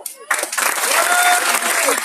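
Audience applause at the 2019 Challenge des Créateurs award ceremony, a dense clapping wash that swells in after a brief quiet start and holds steady, with a voice faintly heard over it.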